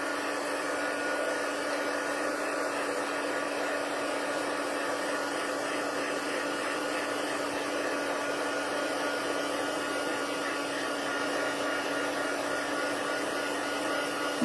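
A heat tool warms a stamped card background, blowing with a constant, even whir and hiss at a steady level throughout, with no voices.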